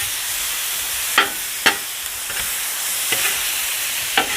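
Fajita meat and vegetables in marinade sizzle loudly and steadily on a Blackstone flat-top griddle, with a few sharp spatula scrapes and taps breaking through the constant hiss.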